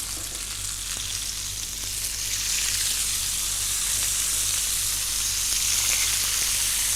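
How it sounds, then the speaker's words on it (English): Onions frying in a griddle pan, a steady continuous sizzle that stays even and close throughout, slightly louder in the second half, with no talking. "We just got to cook that onions till it gets nice and tender."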